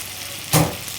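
Chopped onion and tomato fry in a pan with a soft, steady sizzle, and one brief louder burst of hissing rises midway.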